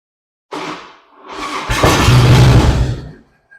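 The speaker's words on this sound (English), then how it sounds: "now we're going to start the bike." A Harley-Davidson motorcycle engine starting up: a short cranking burst, a pause, then a longer crank that catches into a loud, deep rumbling idle before cutting off, close by and alone.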